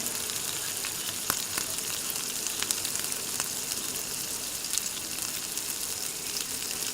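Marinated soybean chunks sizzling in a pan, a steady hiss of frying oil with occasional sharp pops and a few soft stirring clicks, close and continuous.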